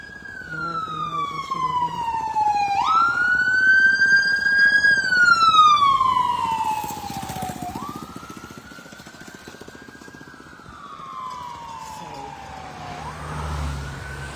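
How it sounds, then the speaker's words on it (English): An emergency vehicle's siren wails in long rising and falling sweeps as the vehicle passes nearby on a street, loud at first and then fading slightly, with traffic rumbling underneath. "Here come another emergency vehicle."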